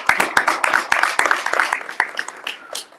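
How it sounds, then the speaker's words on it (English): Audience applause at a conference day, with many hands clapping in a lively, uneven burst; sharp individual claps stand out close by over a fuller crowd patter that thins toward the end. "I would like to thank you, Claudio, and ask for a round of applause."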